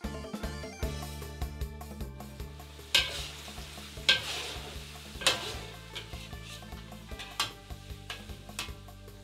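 Shredded pork frying over medium heat in a pan, a soft continuous sizzle broken by periodic scraping and clattering strokes as it is stirred, faint and close with no talking.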